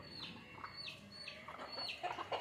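Chickens cluck and call in short, irregular bursts while being fed in the evening, fairly close and continuous, with a few sharper, higher calls toward the end and no talking.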